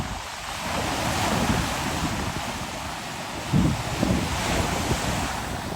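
Steady rush of ocean surf with strong wind buffeting the microphone, waves breaking continuously with a couple of louder surges; no voices.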